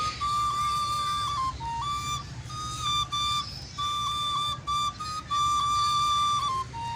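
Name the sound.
bamboo flute playing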